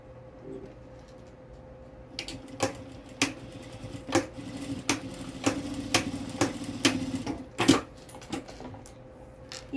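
A domestic sewing machine stitches a seam on a zippered cosmetic case, a fast near rattle of needle strokes in short bursts with small pauses between them.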